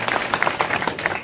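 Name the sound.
rally crowd applause welcoming district president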